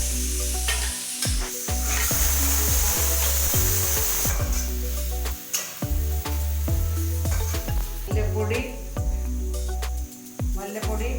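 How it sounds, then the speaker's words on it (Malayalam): Garlic and ginger sizzle steadily in a hot pan, with repeated sharp scraping and tapping from stirring over the continuous frying hiss. "വെളുത്തുള്ളി ഇഞ്ചി ഇടാൻ പോകുന്നു."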